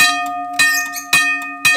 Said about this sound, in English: It's got a pretty loud gong.